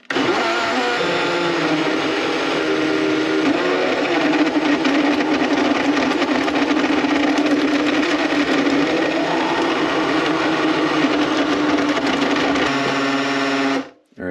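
A blender running continuously at full power on a protein smoothie with creatine, oats, banana and ice cubes, a loud steady whir close by that stops abruptly just before the end.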